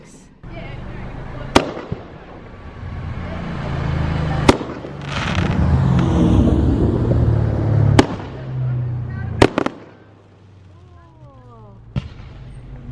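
Sharp fireworks bangs go off one at a time every few seconds, some distant and booming, over a steady background rumble and faint voices.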